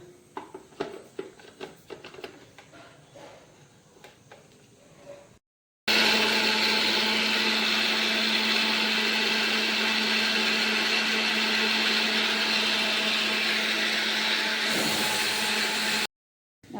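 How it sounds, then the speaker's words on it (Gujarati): Scattered clatter and small knocks, then a mixer grinder roars on loudly grinding spices and whirs steadily for about ten seconds before stopping abruptly. "આટલું ચાલુ કરો મિક્સર"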